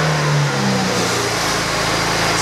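Car engine revving loud and close as the car sets off for a test drive, a steady mid-pitched roar that rises in pitch, with no voices over it.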